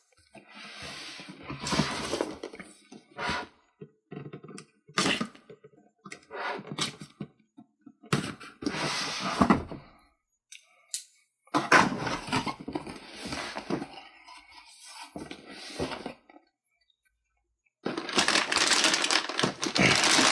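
Crinkling plastic bags and cardboard rustling come in bursts with pauses between, close by, as an Axial RR10 Bomber 1/10 scale RC car kit box is handled and opened.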